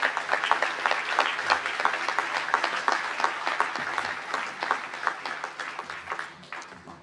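An audience applauds graduates at a university commencement ceremony. The clapping is moderately loud and sustained, thins toward the end, and no one speaks over it.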